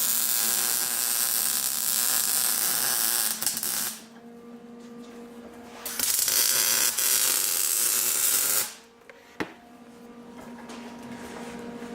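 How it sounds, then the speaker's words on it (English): Welding on a connecting rod from an LS V8 engine, a loud, steady crackling buzz that runs in long bursts with short pauses between, close up with no talking. "Weld her up."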